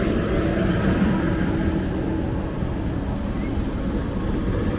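A large truck carrying sand drives past on a road in Koforidua, Ghana, a steady low engine rumble at moderate loudness with no clear rise or fall.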